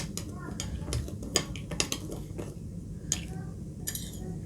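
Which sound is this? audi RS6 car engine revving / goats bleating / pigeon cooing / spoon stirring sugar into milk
spoon stirring sugar into milk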